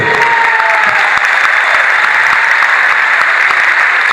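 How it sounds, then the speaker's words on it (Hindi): A large audience at a corporate motivational stage event in India applauds, a loud, dense burst of clapping that stays steady and close for a few seconds with no speech. "आप मेरे साथ हैं तो जब थोड़ी थोड़ी देर में ताली बजाते रहना"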